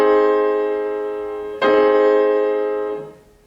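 Piano chord struck fortissimo with a quick standing-up arm action: a loud sustained chord decays, then a second forceful strike rings on before being damped near the end, played alone with no talking.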